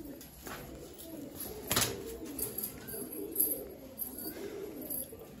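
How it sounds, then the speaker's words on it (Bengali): Adult Madrasi, Rampuri and Malwai pigeons at a sale near Kolyapur railway station give soft, low, repeated coos, faint and close, with a sharp brief rustle partway through and no talk. "পায়রাগুলো"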